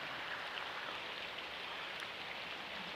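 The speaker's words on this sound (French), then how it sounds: "Bon là il commence à pleuvoir." Rain begins falling outdoors during flooding in the Var, a faint, even hiss of drops on surfaces mixed with the distant rush of a fast-flowing current, steady and without talk.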